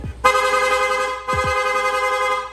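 Two long, loud blaring blasts from a rapid horn on a Yamaha Mio i scooter, the first about a second long, the second longer, with a brief gap between them; no talking.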